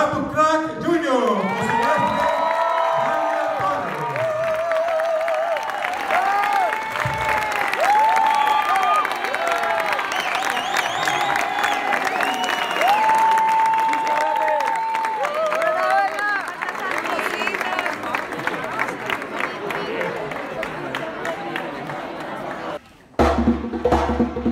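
Audience applause and cheering at a 2017 world-tour concert, a sustained roar of crowd noise, clapping and whoops lasting over twenty seconds, with voices and bits of music mixed through before cutting off near the end.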